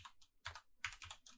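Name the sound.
typing code on a computer keyboard in RStudio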